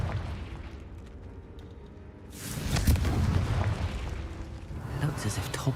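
A Confringo fire spell bursts into a loud, sustained explosive roar in the Hogwarts Legacy video game, erupting suddenly partway through and rumbling on amid game noise and a voice.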